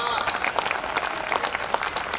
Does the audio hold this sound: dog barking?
no